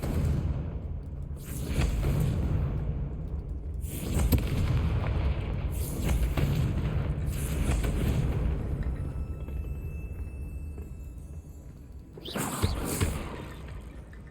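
Booming magical blasts from the Confringo spell in Hogwarts Legacy, several heavy explosions in succession with a rumbling tail and a final loud burst near the end, no voices.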